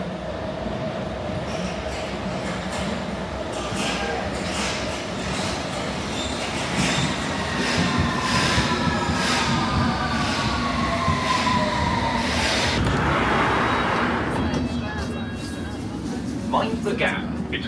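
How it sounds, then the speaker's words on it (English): A London Underground train runs through a tunnel, giving a loud, continuous rumble with rising wheel squeals and clattering rail noise, while voices murmur faintly over it. "Mind the gap between the train and the platform."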